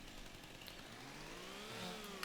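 Chainsaw in Farming Simulator 25 cutting a log in timber work on Ronîda Island, a steady buzzing engine drone that rises slightly in pitch, heard faintly and continuously throughout.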